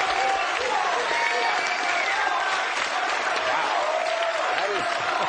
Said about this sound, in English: That is the most applause a Republican ever got around here.